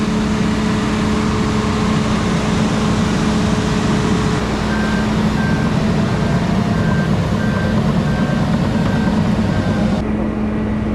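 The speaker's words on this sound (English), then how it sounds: "Trucks here bringing in this paper type material." A truck at a landfill sounds evenly spaced reversing beeps under a loud, constant engine rumble, the beeping starting partway through and continuing steadily until near the end.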